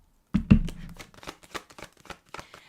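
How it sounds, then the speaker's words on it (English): Tarot cards being shuffled by hand: a loud opening riffle followed by a quick run of crisp, papery flicks and taps, close and alone without voices. "I don't feel nervous about shuffling the cards and shuffle wrong"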